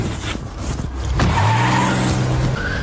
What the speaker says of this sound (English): We got a vehicle taking off on us.